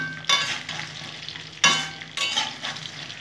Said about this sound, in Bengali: ভালো করে সাঁতলে নেবো।